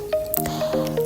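Butter squished into soft, hydrated millet couscous for Senegalese ngalakh dessert, giving a brief, close, wet squelch with small sticky smacks over about a second, no talk.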